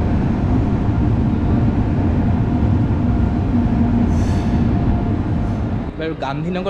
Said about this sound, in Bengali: ট্রেন প্রায় আধ ঘন্টা লেটেই পৌঁছালো